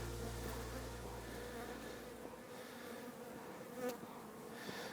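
Honey bees buzzing in an opened hive after winter, a dense steady drone close by with a low hum fading out partway, and a few faint knocks.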